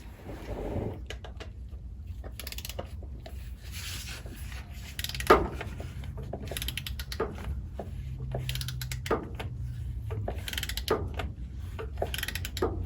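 A torque wrench ratchets while tightening the front differential plug on a 2018 Toyota Tundra, giving repeated close clicking and creaking strokes in irregular bursts with faint mechanical rubbing between them.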